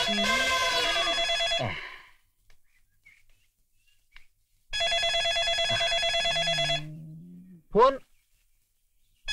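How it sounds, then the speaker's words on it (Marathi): Telephone ringing in an office, two long bursts of bright electronic ringing separated by a silent gap, loud and close, with a brief voice between rings. "फोन वाजायलाय."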